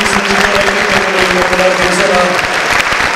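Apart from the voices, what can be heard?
audience applause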